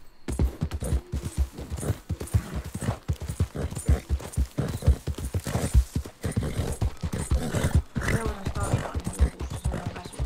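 Horse hooves trotting in Red Dead Redemption 2, a steady rapid clip-clop close by and fairly loud, running throughout with speech over it.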